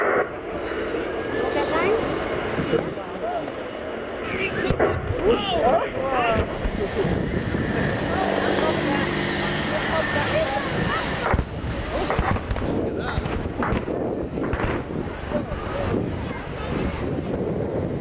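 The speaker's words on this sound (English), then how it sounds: "The Apache pair have conducted a combined rocket attack" Two Apache attack helicopters fire a combined diving attack with 70mm high-explosive rockets at the Yeovilton naval airshow, heard as a loud sustained roar of rotors and rushing blasts over wind noise, with a commentator talking throughout.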